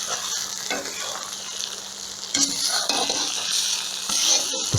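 Beef, carrots and spices frying loudly in a kazan for plov, with a steady sizzle and repeated scraping, clattering stirs of a utensil against the pot.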